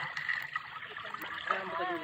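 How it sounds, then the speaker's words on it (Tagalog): River water at Al Sadah in Madha, Oman, splashes and trickles faintly in irregular bursts. Soft voices and small gurgles come through close by. "Oh, lakas ng alon."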